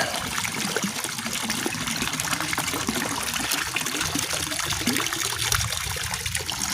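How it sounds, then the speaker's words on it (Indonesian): Water from a tap trickles and splashes steadily as spring onions are rinsed under it, a close, continuous running stream with small irregular splatters throughout. "Cuci dulu bawang daunnya."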